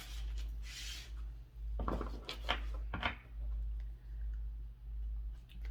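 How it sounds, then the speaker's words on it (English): Tarot cards are shuffled close by in a few short, crisp riffling bursts with pauses between them, over a low steady hum. "Spirit is telling me to shuffle, so I go ahead and I shuffle."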